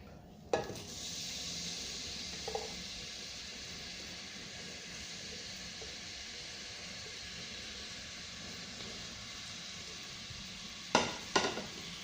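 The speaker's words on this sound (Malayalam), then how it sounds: "അപ്പോൾ നമുക്ക് ഈ സവാള അതിനകത്ത് ഇട്ട് കൊടുക്കാം." Onions frying in oil in a pressure cooker, a steady broadband sizzle running throughout, with a few sharp clinks near the start and end.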